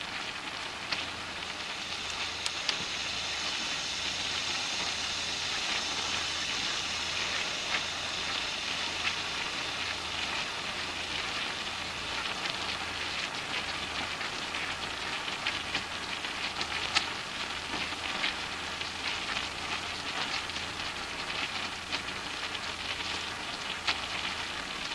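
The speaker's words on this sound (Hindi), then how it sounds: "हमने इसे मीडियम टू हाई फ्लेम पे फ्राई करना है, तभी ये क्रिस्पी फ्राई होंगे।" Potato balls frying in hot oil on a medium to high flame, a steady dense crackle and sizzle that runs unbroken throughout, close and even in level, with no talking.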